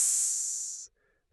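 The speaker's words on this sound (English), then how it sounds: "chunks of fatty mutton, bone-in, of course, for flavor, sizzle and spit in a tiny pool of precious sesame oil" Chunks of fatty bone-in mutton sizzle in a small pool of sesame oil, a loud, steady hiss that fades, cuts out, then returns abruptly.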